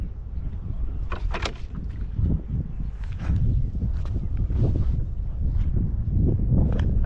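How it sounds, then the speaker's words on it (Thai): Strong wind blows by a large canal in the late afternoon, a steady low rumbling roar that buffets the microphone with gusty swells throughout. "แต่ลมแรง"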